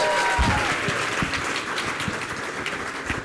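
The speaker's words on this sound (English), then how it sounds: "Let's give her a round of applause" Applause from the audience at a scholarship achievement benefit in San Francisco, a steady wash of many hands clapping with a few sharper close claps standing out.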